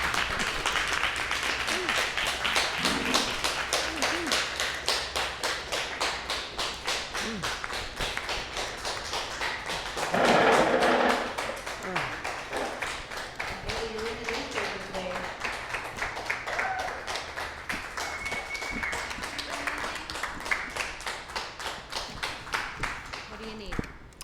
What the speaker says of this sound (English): please clap it up for Haley Nicole Prentice